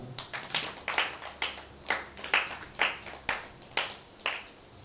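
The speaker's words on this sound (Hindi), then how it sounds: "वेरी गुड, तालियां।" Rhythmic group clapping at a church gathering, about a dozen evenly spaced sharp claps in a steady beat, fairly close and clear with no talk over them.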